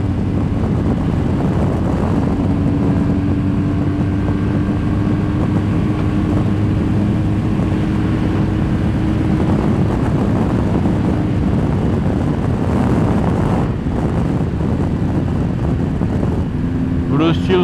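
A BMW GS 1200 motorcycle carrying a rider, passenger and luggage accelerates on a road in northeastern Brazil, its engine droning low and loud beneath heavy wind rush, pitch creeping upward through the run.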